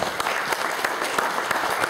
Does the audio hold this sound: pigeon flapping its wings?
no